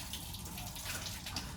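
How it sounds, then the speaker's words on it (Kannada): Water pours into a bucket being filled for washing biking gear, a soft, steady splash and gush that is close but quiet and lasts only a moment. "ನೀರು ತುಂಬಿತು."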